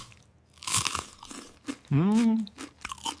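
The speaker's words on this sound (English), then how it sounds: "I chew loudly." A person chews loudly with a few crunchy, biting bursts, followed by a short rising vocal sound, all fairly close and loud.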